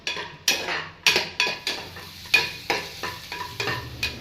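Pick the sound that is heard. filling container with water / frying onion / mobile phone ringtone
frying onion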